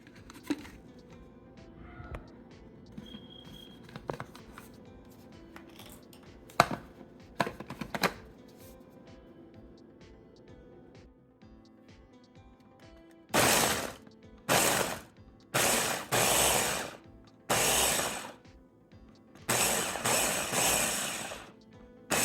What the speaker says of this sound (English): And we're just gonna blend everything together.